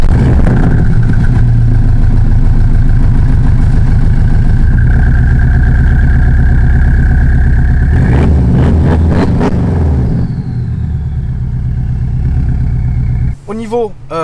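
A Porsche engine runs loud and close from outside, a steady throbbing idle with a rise in pitch midway, then a few sharp revs before settling, while people talk over it near the end.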